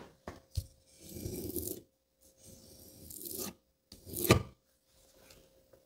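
An axe blade is rubbed across sandpaper held flat, giving a few separate rasping strokes with short pauses between them, fairly quiet and close, ending in one sharper scrape.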